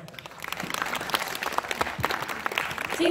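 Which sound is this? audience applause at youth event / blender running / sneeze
audience applause at youth event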